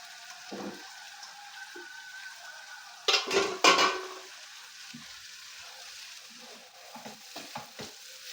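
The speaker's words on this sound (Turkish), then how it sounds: "Şimdi mercimeğimi koyuyorum." Green lentils are tipped into a pan with onion and spices and stirred, giving a faint sizzle with a few louder scraping and rattling bursts of spoon against pan.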